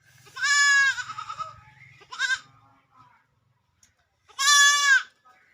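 Goat bleating in two long, wavering cries near the start and one at the end, with a short bleat between them. The cries are loud and close, and quiet gaps fall between them.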